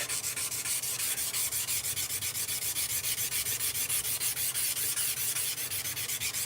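A knife blade is hand-sanded at 320 grit at a forge, its rapid back-and-forth strokes rasping in an even, unbroken rhythm close by, with no voices.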